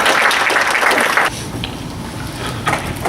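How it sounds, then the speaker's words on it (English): An audience applauds a speaker at a property-management training event, clapping loudly for just over a second, then fading into softer scattered claps and room noise. "so everybody give him a round of applause to John Bradford"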